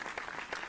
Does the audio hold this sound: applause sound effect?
yes